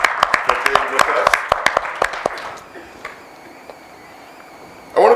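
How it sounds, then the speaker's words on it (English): Applause from an audience at a talk on HIV among pregnant women in rural Mississippi, a dense burst of clapping for the first few seconds that thins out into scattered claps and fades, with a brief loud swell right at the end. "Let's give her a big round of applause."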